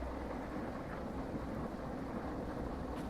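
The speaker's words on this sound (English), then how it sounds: "I love a good thunderstorm." A thunderstorm in the Derail Valley train-driving video game: a steady low rumble of thunder blends with the hiss of rain and wind, continuous and fairly loud, with no one talking.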